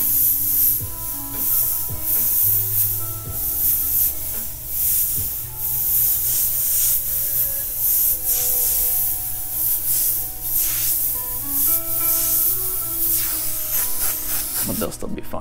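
Airbrush spraying white highlight paint onto a T-shirt with a steady, continuous hiss that runs almost unbroken, overlaid by background music and occasional chatter.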